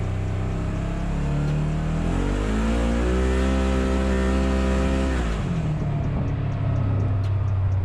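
A 2022 Polaris General Premium side-by-side in two-wheel drive revs up under partial throttle, the engine note climbing steadily then dropping back, loud and close throughout with no talking.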